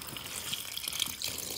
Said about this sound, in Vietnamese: Đây, em xả nước vào đây.